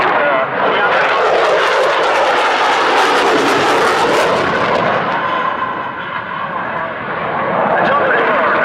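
A Eurofighter Typhoon jet of the Italian Air Force flies past at about 300 knots, a loud roaring rush that swells and then eases slightly, as at an air display, with an announcer talking over it.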